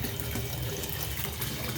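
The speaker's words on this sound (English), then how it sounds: "Add some more cold water." Cold water runs from a hotel room tap in a steady, continuous gush with no talking, close and fairly loud throughout.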